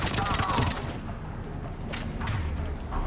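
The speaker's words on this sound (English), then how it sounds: "When dealing with troopers, I think it might be easier to just use the machine gun." Machine gun fire in the video game Mass Effect 3, dense rapid bursts of loud gunfire with booms, strongest at the start and recurring, mixed with battle noise.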